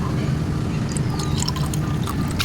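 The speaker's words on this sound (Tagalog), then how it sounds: "Lagyan po natin ng konting tubig." Water is poured in a short steady stream into a hot frying pan while frying the base ingredients for a dish of wild bitter gourd leaves, a close, continuous splashing hiss with sizzling underneath.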